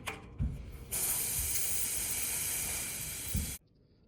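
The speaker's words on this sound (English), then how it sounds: "it's time to reinflate the tire." A bicycle tire filled with sealant is reinflated, giving a loud, continuous close hiss of rushing air for about three seconds that stops abruptly, with a few soft knocks at the start and end.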